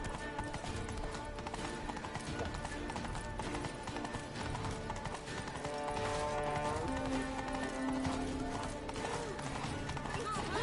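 A horse called Roach gallops in a video game, rhythmic hoofbeats under steady game music and effects, with voices talking over the mix.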